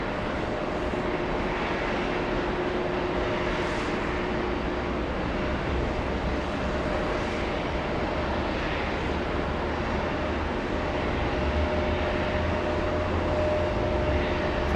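A Lufthansa airliner bound for Munich gives off a steady, continuous engine rumble with a faint, even whine, staying unchanged at moderate loudness throughout with no voices.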